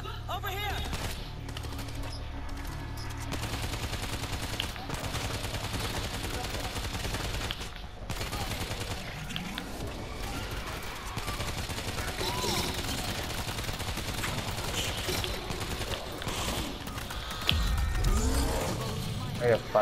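Gunfire from the zombie shooter World War Z on a New York level, dense and continuous rapid shots under steady game noise, with players talking over it throughout.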